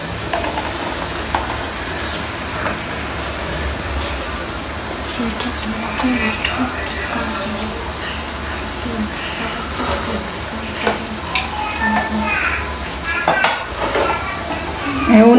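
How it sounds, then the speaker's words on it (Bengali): Noodles stir-fry in a pan, a steady loud sizzle running throughout with repeated scraping and clinks of a utensil against the metal, building to a louder clatter at the end. "এই যে আপনাদের ভাইয়ের নুডলস রান্না প্রায় হয়ে আসছে"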